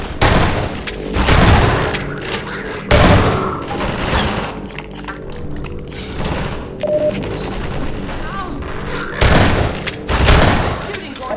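Heavy gunfire from the video game Half-Life 2: Episode Two, loud bursts of rapid shots that stop and start several times, with voices talking between and over the volleys.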